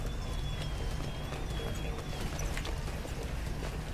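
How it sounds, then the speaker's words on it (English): Mechanical horse hooves clop steadily in BioShock Infinite, a brisk rhythmic clip-clop heard close and fairly loud against a busy crowd ambience, with no speech over it. "You're cute malfunctioning death horse."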